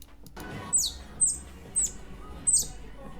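Four short, high otter squeaks from a cozy video game come at a quick, even pace over a quiet background, clear and close.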